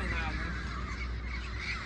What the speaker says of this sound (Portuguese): É maritaca, na verdade.